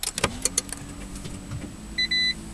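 Toyota Prius T Spirit being switched on with key and power button: a few clicks and a rising electric whine, then steady hum and two short electronic beeps near the end, with no engine roar.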